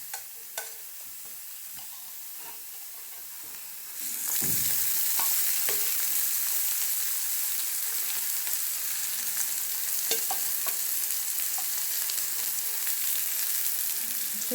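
Oil poured over onions already roasted reddish in a pan, while cooking a spicy Satara-style village egg curry, sets off a sudden loud sizzle that keeps frying steadily, with occasional stirring clatters and no talk.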